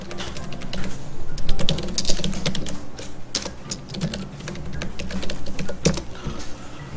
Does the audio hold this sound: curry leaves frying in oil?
no